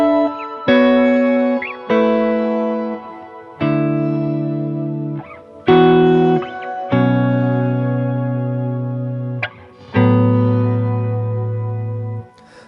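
An electric guitar played through a shimmer reverb on a Line 6 Helix rings out as a series of sustained chords, each struck cleanly and left to decay with a lush, washy tail, alone and loud.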